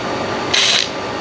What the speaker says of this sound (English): you just want to pre-drill it?